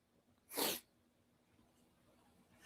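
One short, sharp sneeze erupts close by, then quiet room tone follows with a faint rustle at the end.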